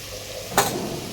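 Spices sizzling and being stirred in a pan as coriander powder goes in for Kathiyawadi undhiyu, a steady low frying hiss with one short brighter scrape or stir near the middle.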